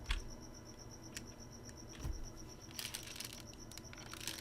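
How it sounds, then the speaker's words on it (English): Crickets chirping indoors inside a house, a faint steady high trill running through the whole stretch with soft low rumbles and occasional rustling beneath, no voices present. "I'm hearing the crickets inside the house right now"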